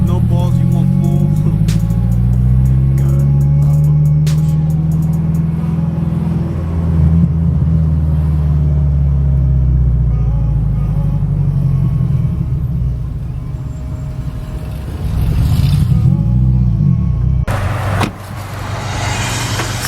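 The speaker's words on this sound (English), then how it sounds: "We just straight piped the car in the middle of nowhere, our garage." A straight-piped Subaru with a cheap metal pipe exhaust rumbles deeply, swelling and easing as the revs rise and fall, with voices talking over it.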